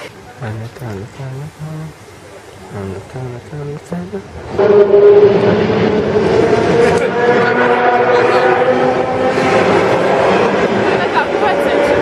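A train rumbles in and draws close, its loud, broad roar building after a stretch of voices and continuing steadily to the end.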